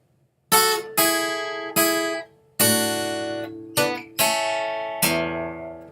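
Guitar playing the second phrase of a tango B section, seven loud plucked chords and bass notes struck one by one, each ringing and decaying, with short gaps between, played alone.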